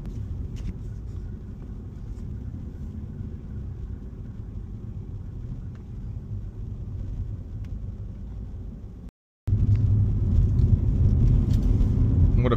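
A Jaguar XKR X150 coupe cruises along a road on a fine day. A steady low engine and road rumble runs throughout, broken by a brief silent gap before it resumes slightly louder.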